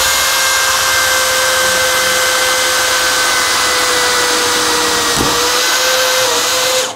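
A Bosch GSB 185-LI cordless drill drives a 14x1 inch self-drilling screw with one continuous loud, close motor whine, steady in pitch until it cuts off at the end.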